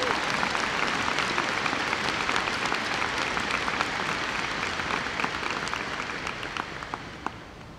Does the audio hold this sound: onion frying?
no